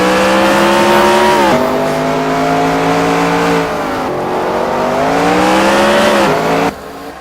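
Race car in a NASCAR racing video game pulling away from a pit stop at Lowe's, its engine droning loud and steady with rising and falling pitch as it accelerates, no talk over it.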